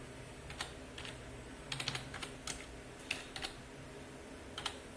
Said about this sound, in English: Now I can't type one-handed.